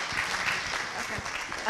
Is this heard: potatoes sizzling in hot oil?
no